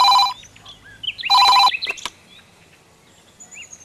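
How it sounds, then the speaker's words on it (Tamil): A telephone bell rings in two loud, close bursts in a Tamil film scene, followed by a few brief clicks and quiet background chirps. "கொஞ்சம் ஃபோன் எடுத்து பேசுமா."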